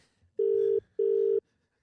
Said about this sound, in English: Oh, God, we're ringing.